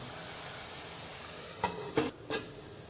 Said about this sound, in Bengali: এবার আমি ডাকনাটা উঠে নেড়ে দিচ্ছি